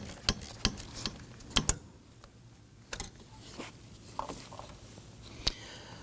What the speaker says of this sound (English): I'm going to pop our ratchet in there